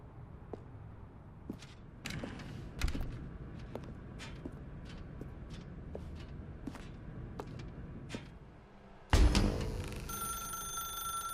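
A telephone rings faintly in a quiet room in The Stanley Parable, with sparse clicks and taps through the scene, then a louder burst of ringing and noise near the end.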